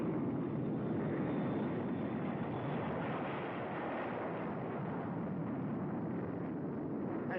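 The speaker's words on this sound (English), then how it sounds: "drone jets, pilotless, crewless, at super speed flown up into the night sky" Pilotless jet drone aircraft flying up into the night sky at high speed during atomic test operations over Pacific test islands, a steady, loud, continuous jet roar that holds without a break throughout.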